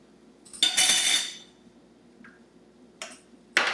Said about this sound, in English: I'm going to go ahead and dice up some water chestnuts